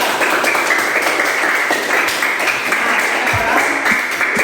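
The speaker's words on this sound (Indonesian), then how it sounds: "Beri tepuk tangan untuk kelompok 4" Classroom applause for a student discussion group, a dense steady wash of many hands clapping together, close and fairly loud throughout with no pause.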